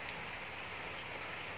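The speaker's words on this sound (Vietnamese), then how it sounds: "tại trời mưa ở đây" Steady rain falling around an outdoor spot where young gallinule chicks (common moorhen) are being raised, a dense, even hiss of drops alone with no voices, fairly faint throughout the short stretch.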